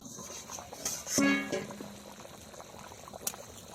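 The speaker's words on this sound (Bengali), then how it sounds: "তরকারিটা দেখো কি সুন্দর থগর বগর করে ফুটছে" A country chicken curry with papaya and hand-ground spices bubbles as it boils in a pot. Quiet, close bubbling and gurgling come in a brief burst with a faint clink.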